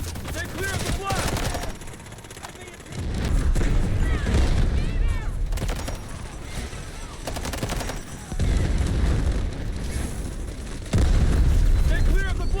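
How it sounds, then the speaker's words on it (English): Explosions and heavy gunfire in the shooter game Delta Force, with loud repeated booming blasts and dense bursts of shots near and loud, together with a QBZ95-1 rifle. "Stay clear of the blast!"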